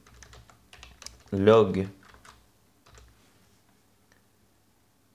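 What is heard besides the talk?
typing code on a computer keyboard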